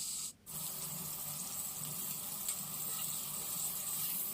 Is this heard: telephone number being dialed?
no